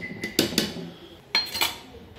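A metal lid is set onto a pot of chicken curry, giving several close, sharp clinks and clatters in two quick clusters.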